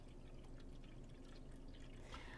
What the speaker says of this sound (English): I'm gonna rinse it one more time because I'm not satisfied yet.